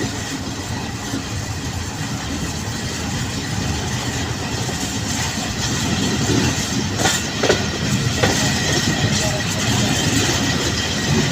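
The Hazara Express passenger train rolls on rails near Mirpur Mathelo station in a steady, loud rumble with clattering wheel noise and occasional rattles heard from inside the carriage.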